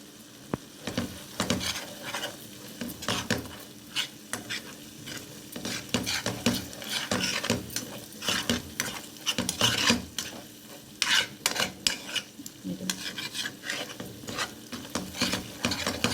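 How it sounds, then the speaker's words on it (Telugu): Fish pieces and spicy fish masala stirred in hot oil for a fish curry, with rapid repeated scraping and clinking strokes of a spoon over a continuous close sizzle. "కొంచెం బాగా కలిపేసుకోండి ఆయిల్లో అవి కూడా ఆయిల్లో బాగా వేగాలి"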